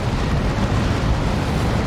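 A D-Cannon firing in Warhammer 40,000: Dawn of War 2, a dense, continuous rumbling explosion with a broad roar that holds steady and loud from start to finish.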